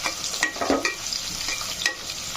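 Onions fry lightly in plenty of oil for beef rezala, a steady close sizzle punctuated by repeated scraping stirs of a spatula in the pan, with no speech.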